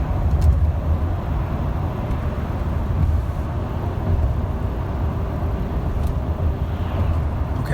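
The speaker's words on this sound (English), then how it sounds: "It's definitely shifting down more. I'm in 4th gear." A car driving on a road in 4th gear, downshifting more than a 2019 model of the same car, gives a steady low engine and road rumble that stays even throughout with no voices.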